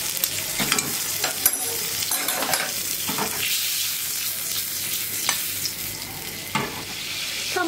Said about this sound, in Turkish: 1 yemek kaşığı tepeleme dolusu tereyağını tavamın içerisine alıyorum.